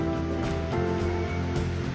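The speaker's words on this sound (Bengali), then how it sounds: "তেল গরম হয়ে গেলে এরপর আপনারা প্রথমত পেঁয়াজ কুচিগুলো দিয়ে দিন" Chopped onions hiss and sizzle in hot oil in a wok while cooking a chicken curry, a steady, dense crackling wash that continues without a break.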